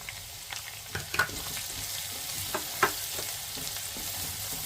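Chopped garlic sautés in a pan, with a steady soft sizzle and occasional scraping stirs of a spatula, close and moderately quiet with no voices.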